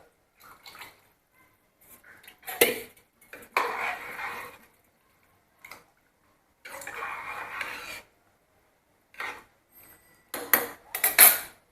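A pressure cooker lid is fitted and closed while mutton cooks, giving sharp metallic clanks and scraping rattles in short bursts separated by quiet gaps, close to the listener.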